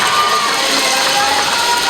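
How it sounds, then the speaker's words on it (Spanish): A crowd at a school competition final applauds and cheers for a participating school, a dense, continuous roar of voices and clapping that holds steady and loud throughout. "aplauso para la institución educativa Shadai."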